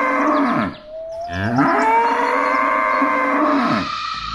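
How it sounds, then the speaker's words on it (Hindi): A pregnant cow moos loudly in pain, a long, drawn-out bellow with rising and falling pitch that fills the whole span, close and strained, with no talking over it. "ये तो मेरी गाय की आवाज है।"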